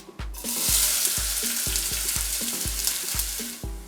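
Onions fry in hot canola oil in a pan, giving a bright, steady sizzle with a series of regular knocks and scrapes from stirring that recur about twice a second.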